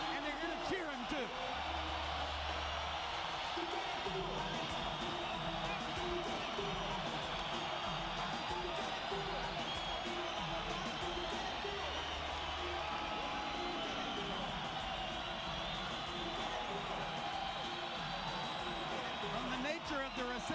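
Boxing arena crowd roaring for Miguel Cotto's entrance, a dense sustained cheer filling the hall, with a commentator talking over it throughout.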